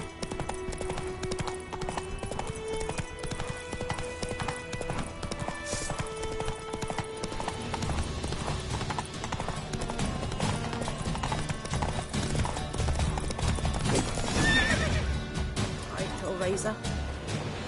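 Hooves of Roach, a horse in The Witcher 3, clip-clop steadily at a gallop throughout, mixed with game music and a brief loud swell near the end; a voice speaks over it.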